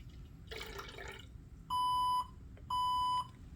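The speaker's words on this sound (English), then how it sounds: "Here you can see our alarm has alerted again" Operating-room blood loss monitor alarm giving two loud, identical electronic beeps, each lasting about half a second, after a brief burst of liquid-like noise over a low background hum.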